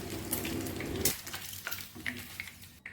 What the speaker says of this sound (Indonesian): di sini aku mau goreng kentang